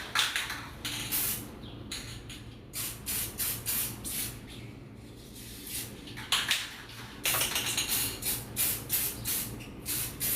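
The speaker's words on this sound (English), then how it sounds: "This is some chrome spray paint." Chrome spray paint hissing from an aerosol can in repeated short bursts, broadband and fairly close, with brief pauses between sprays and no talking.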